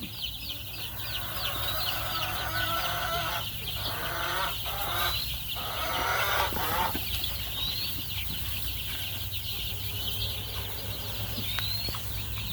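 Young chicks busy feeding and scurrying about at night in a brooder, with steady soft peeping and clucking throughout, faint wing flutters, and a low constant hum in the background.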